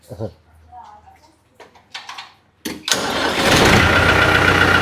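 A tractor in a village haveli cranks and fires, then settles into a loud, steady close-up engine rumble after a few scattered knocks and brief voices.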